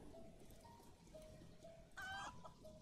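A chicken in the video game 7 Days to Die gives soft intermittent clucks over a low game ambience, ending in a louder, brief squawk.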